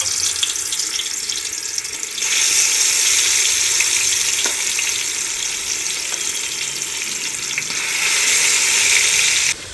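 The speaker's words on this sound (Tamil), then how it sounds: "மீன் பொரிக்க போகிறேன்." Fish sizzles and crackles in hot oil in a pan while being fried for a traditional restaurant-style fish biryani, a steady loud frying hiss that surges slightly at the start and near the end, with no talking.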